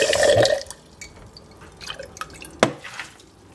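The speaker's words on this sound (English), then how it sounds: "dump them in the colander here and give them a really, really good rinse" Water pours and splashes briefly as bean sprout seeds are rinsed in a colander, then a few scattered drips and small splashes follow in a quiet room.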